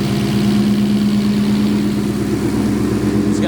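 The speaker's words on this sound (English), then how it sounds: "Just gonna let the car warm up," A car with a new 5.0 engine idles steadily while warming up, a loud, close, even rumble with a low throbbing pulse and no revving.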